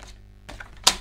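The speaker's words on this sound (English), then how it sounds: "Sorry if that clicking of the trimmer is like really loud." A paper trimmer clicks crisply at close range during a paper craft project: a few soft taps, then one sharp louder click near the end, in otherwise quiet surroundings.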